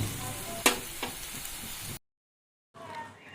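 Rui fish head curry, murighanto, sizzles in a pan as sugar and Kashmiri chilli powder are stirred in. A spoon scrapes and clicks over the frying, the sound cuts out for a moment, then the sizzle resumes softly.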